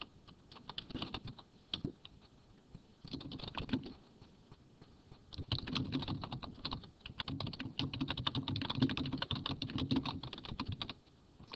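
Computer keyboard typing a book title into a citation search box, bursts of quick close key clicks with short pauses between runs, growing denser toward the end, with no talking.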